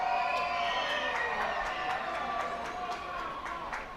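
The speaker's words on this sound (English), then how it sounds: "And the crowd getting loud here as Sal down to an 0-2 count." A minor league baseball crowd at a Binghamton Rumble Ponies versus Reading Fightin Phils game swells in a loud, sustained roar of cheering with scattered claps and whistles, heard from within the stands.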